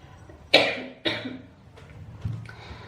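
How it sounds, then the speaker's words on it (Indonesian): A person coughs three times in a row, the first two sharp and close, the last one softer, with no talking. "Tuh jadi batuk deh gue."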